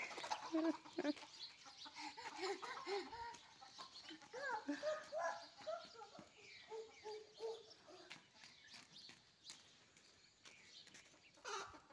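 Chickens cluck and chatter nearby in a quiet outdoor setting, irregular bursts of clucking with soft background rustling.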